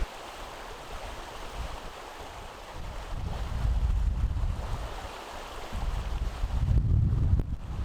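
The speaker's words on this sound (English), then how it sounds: "I guess that wind hasn't died down after all." Wind gusting across an open lake in ice-out wilderness, a steady broad rush that swells louder toward the middle and again near the end, with no voices.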